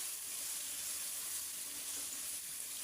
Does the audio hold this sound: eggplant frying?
yes